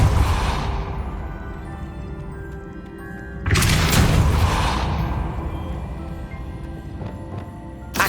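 A Depulso spell goes off in Hogwarts Legacy, a sudden loud whooshing boom about midway that swells and then fades slowly into a low ambient hum.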